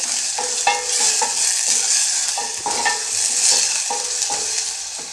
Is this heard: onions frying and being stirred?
yes